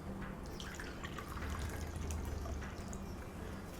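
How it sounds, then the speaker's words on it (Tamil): Water poured into a cooking pot for capsicum soup, a steady close trickling and splashing with a low liquid rumble underneath, quiet and uninterrupted. "1 கப் தண்ணி விட்டு"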